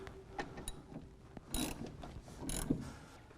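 Ratchet hand tool tightening the lower mount bolt of a coilover suspension, a few quiet clicking bursts of the pawl with faint metallic rubbing between them.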